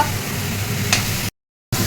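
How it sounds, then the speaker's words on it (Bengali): Grated carrots for carrot halwa being stirred and lightly fried in a pan, giving a steady close sizzle and scraping that cuts out briefly to silence before resuming. "নাড়া হচ্ছে গাজরগুলো এবার একটু হালকা ভাজা ভাজা হয়ে যাবে"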